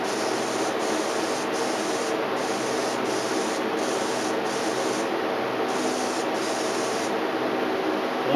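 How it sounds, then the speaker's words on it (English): KG Gun Kote coating sprayed from a gun onto a heated HK magazine, a steady continuous hiss of atomized spray with a faint pulsing edge, close and loud throughout with no speech. "we're going to start off spraying this HK mag"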